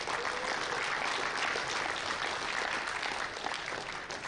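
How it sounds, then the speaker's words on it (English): Another round of applause from the crowd at a powerlifting national championship, a steady wash of many hands clapping throughout with no break. "give these boys one more round of applause"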